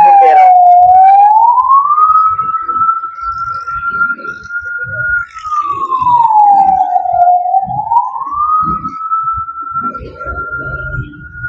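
A fire truck's wailing siren rises and falls in long, slow sweeps, loud and close. Low rumbling road and engine noise sits underneath.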